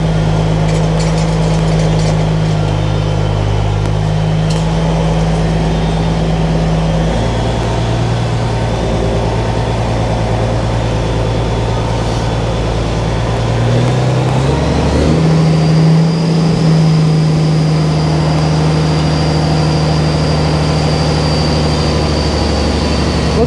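Tractor-trailer truck backing up in Baltimore, a loud, steady low diesel rumble with a constant idling drone that shifts pitch partway through as the engine load changes, close and continuous with no talking.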